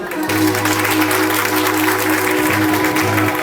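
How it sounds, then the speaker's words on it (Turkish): Guests at a Black Sea style wedding in Kavacık applauding, a broad wash of clapping over a sustained low hum and musical tones. "Yeni bir alkış olsun bakalım."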